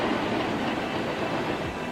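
Railway carriages roll past close by with a dense, continuous rumble and rattle of wheels on track, steady and fairly loud throughout.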